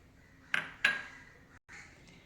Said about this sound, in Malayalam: ഇനി നമുക്കിത് ഒരു ഇരുമ്പ് ചട്ടിയിലേക്ക് ഇട്ട് കൊടുക്കാം